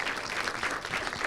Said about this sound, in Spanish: También le ofrecemos un aplauso a Fer.